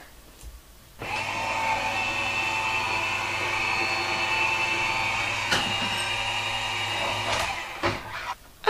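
A Sizzix Vagabond electric die-cutting machine starts up and hums steadily for several seconds while feeding kraft and cream card stock, with a soft thump midway and clicks as it stops, close and with no talk.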